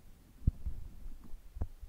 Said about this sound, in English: And the heartbeat is so loud.